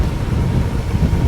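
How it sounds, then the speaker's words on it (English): Strong wind buffets the microphone during a ride on a Segway E300 electric scooter beside a lake as rain weather moves in, a loud, steady low rumble with gusty fluctuations and no talking. "Ooh, it's windy."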